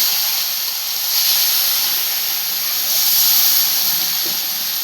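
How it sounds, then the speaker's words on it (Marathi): Hot water poured into a pan of ghee-roasted wheat vermicelli hisses loudly and steadily as steam rises, swelling slightly twice, close and uninterrupted. "तर हे गरम पाणी आता टाकते याच्यामध्ये"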